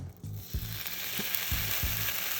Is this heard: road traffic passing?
no